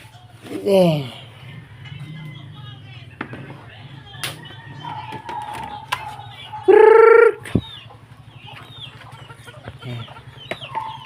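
Chickens and ducks gather at feeding time on a farm, with clucks and a loud squawk standing out over a low steady hum, while a person talks at intervals.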